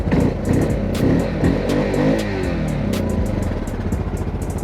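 An Access 800cc single-cylinder fuel-injected ATV with power steering idles close by, a loud, rhythmic thumping chug with a couple of throttle blips.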